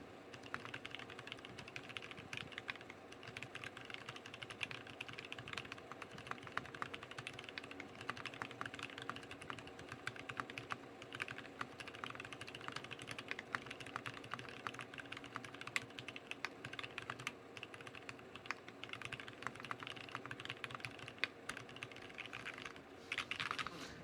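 Steady, continuous typing on a computer keyboard during a desktop PC build session, keys clacking in a dense uninterrupted rhythm at close range for the whole stretch, with no voices over it.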